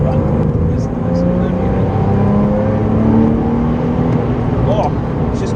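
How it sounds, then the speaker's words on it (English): Porsche 911 996 Carrera flat-six engine droning steadily from behind the cabin while driving, rising gradually in pitch as it revs, with constant road and wind noise underneath and no talking. "Not to mention the noise that the engine makes. That flat six behind you just sounds like nothing else."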